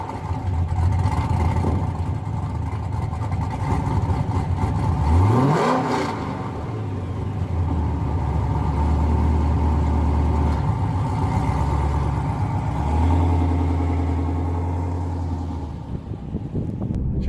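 An LS1-powered fourth-generation Camaro fitted with an aftermarket torque converter drives along, engine droning loudly with a clear rev sweep climbing then settling, followed by steady cruising hum and another throttle push, no voices.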